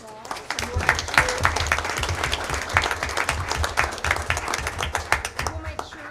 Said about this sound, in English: Let's give these 4 students a round of applause